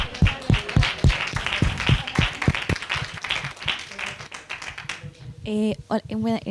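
At a lipedema conference round table on surgery, the audience claps in a steady run of sharp hand claps, and a voice then speaks over the clapping.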